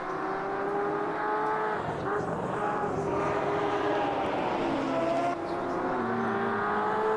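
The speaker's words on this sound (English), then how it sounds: "I love the sound of this Porsche in game" A Porsche race car engine in a racing video game endurance race at Spa howls continuously and loud, its pitch climbing and dropping through gear changes as it comes through corners, with no talk over it.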